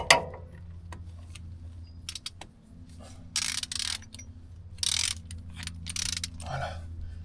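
Torque wrench with a socket tightening a fastener during a service on a Toyota Hilux, giving a few sharp ticks and ratchet clicks in short bursts amid quiet workshop background.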